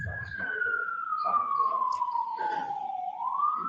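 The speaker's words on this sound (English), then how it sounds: "And the sirens are going" An emergency vehicle siren wails steadily in a long, slowly falling tone that then rises again, moderately loud and somewhat distant, with muffled background chatter underneath.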